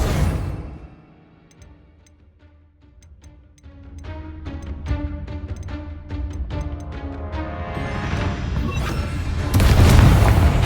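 Confringo blasting spell in the video game Hogwarts Legacy, a ticking, building magical charge that rises in loudness and ends in a loud, close booming explosion.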